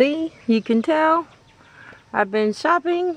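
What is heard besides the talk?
roosters crowing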